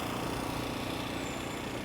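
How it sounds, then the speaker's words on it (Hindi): An engine runs steadily close by at Nathan Phillips Square in Toronto, a constant rough rumbling drone with no pauses. "यहाँ पे इंजन चल रहा है"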